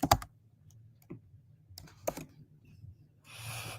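Computer keyboard typing in scattered bursts, a few sharp key taps separated by quiet gaps, ending with a short rustling burst, close and fairly clear with no talk.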